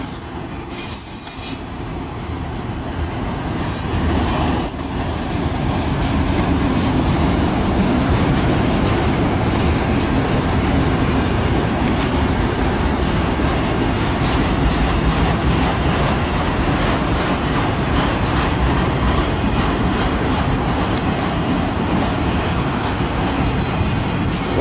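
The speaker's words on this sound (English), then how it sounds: "this is such a long train" A long CN 385 southbound freight train hauling many car haulers rolls past close by in Port Huron, Michigan, with a steady, loud rumble and squealing wheels that continue throughout.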